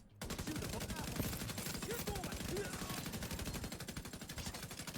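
Rapid sustained automatic fire from the Strega rifle in The Division 2, a dense fast rhythm of loud shots continuing for several seconds with faint game sounds underneath.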